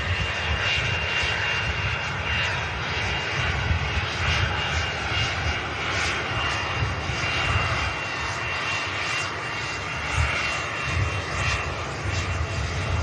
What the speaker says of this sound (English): This BizJet you're about to get a glimpse of is the Silver Cloud Cessna, and that aircraft's heading out to Kiruna.